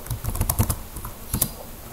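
Quick bursts of keystrokes on a computer keyboard as a terminal command is typed, close and fairly loud with a brief pause between clusters.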